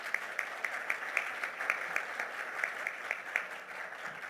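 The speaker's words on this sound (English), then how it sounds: "And can we please give Miss Rachel a huge round of applause?" An audience at a youth mental health symposium applauds Miss Rachel, a steady, moderately faint wash of clapping with slight regular surges, no voices over it.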